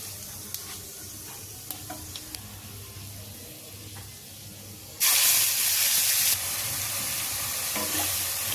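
Ground onion, garlic, ginger and green chili paste fries in oil in a kadai, a quiet simmer with scraping stirs that surges into a loud, close sizzle partway through.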